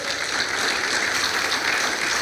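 A church congregation claps together in worship, a dense, steady wash of many hands that holds even and fairly loud across the whole moment with no voices above it.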